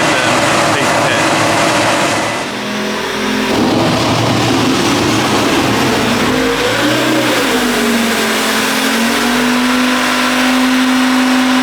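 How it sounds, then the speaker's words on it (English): Diesel engine of a combine harvester fitted with a Caterpillar engine, running steadily at harvest with a loud continuous drone that rises in pitch partway through, close by and constant throughout. "Combine that makes, John. Very good bit of kit. I believe it's got a cat engine in it"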